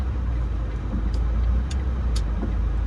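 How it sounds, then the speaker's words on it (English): A car on a residential street in the Lincoln Park neighborhood of Valdosta, Georgia, a low steady engine and tire rumble that swells slightly as it approaches, heard from inside a vehicle with no talking. "I got a car coming, so I'm going to allow them to pass."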